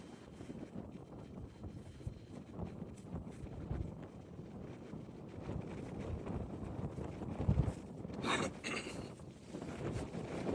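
Steady wind buffets a microphone outdoors on a golf course, a broad rushing roar that swells and gusts over about ten seconds, with no talking heard.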